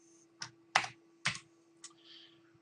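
Keys on a computer keyboard are struck in a short, uneven sequence, four or five crisp clicks spaced apart, quiet and close in an otherwise still room.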